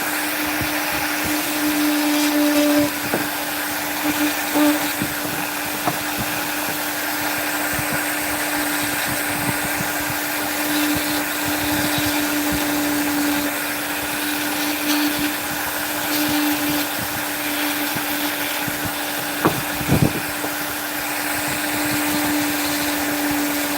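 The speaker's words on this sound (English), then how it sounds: "These detail burrs, with this wood being as soft as it is, it's just going through" Rotary carving tool fitted with a Kutzall detail burr cutting into soft fogwood found on the ground, a steady high motor whine with a constant hum running throughout, near and loud, with brief grinding shifts as the burr bites.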